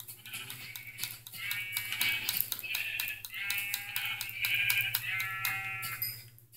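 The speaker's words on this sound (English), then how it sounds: "I see a sheep. This is my sheep" Repeated video-game sheep bleats, several in a row with short gaps, loud and close, over a steady low hum.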